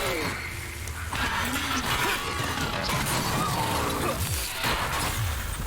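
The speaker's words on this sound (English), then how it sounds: "Let's try smashing this up." An object gets smashed up in the video game Prey, with crashing, clattering impacts over a dense, loud background of game ambience.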